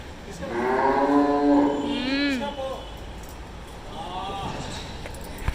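Several cows at a cow shelter low in drawn-out moos, one long call followed by a second shorter one a moment later, fairly close against a noisy outdoor background.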